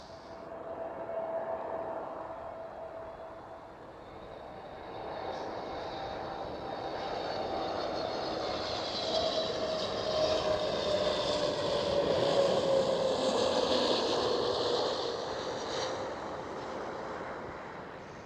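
A Transavia Airbus A321neo at Amsterdam Schiphol passes with a long, building jet roar and a gently falling engine whine, loudest toward the end before easing, heard alone without talk.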